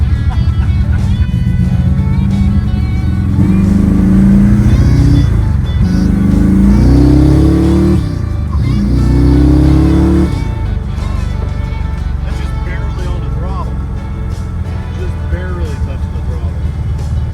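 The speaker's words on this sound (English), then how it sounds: "It's powered by a 12-to-1 compression 427 big block with dual 4-barrel carburetors on a tunnel ram intake" A 1955 car with a 12-to-1 compression 427 big block V8, dual four-barrel carburetors and a tunnel ram intake revs loudly and roughly close by, its pitch rising and falling in blips before settling to a lumpy idle.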